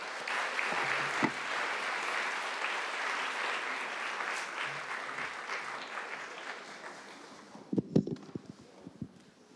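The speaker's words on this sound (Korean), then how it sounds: "박수로 환영하겠습니다." A church congregation applauds in welcome during a Sunday worship service, a dense, moderate wash of clapping that runs for several seconds, then thins out into a few scattered louder claps near the end.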